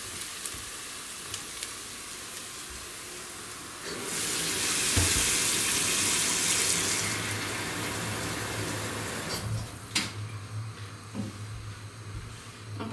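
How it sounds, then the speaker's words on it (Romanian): Water pours into a cooking pot of nettle soup already seasoned with paprika, a loud rushing splash lasting a few seconds. Frying sizzle and kitchen clatter come before and after it. "Și adaug apa."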